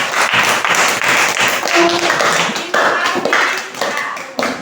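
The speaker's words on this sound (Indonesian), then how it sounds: "Tepuk tangan untuk kelompok." Schoolchildren in a classroom clap for a student group after a presentation, a close, loud burst of quick, uneven hand claps that runs throughout, with brief voices mixed in.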